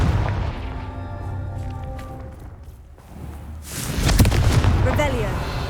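A blasting-spell explosion in a wizarding action game, with a sharp magical burst followed by a loud boom and crackling debris after a brief quieter pause, with a voice before it.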